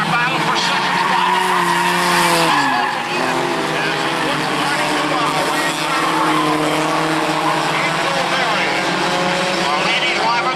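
Race cars in a Sunday Warriors division event scream past on a track, with engines droning continuously and a pitch sweep as one passes, loud and close, while an announcer commentates over the noise.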